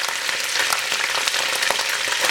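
Ginger garlic paste sizzles in hot oil while a restaurant-style Chicken Schezwan is being cooked, a steady, dense crackling hiss with scattered sharper pops, close and continuous, with no voices.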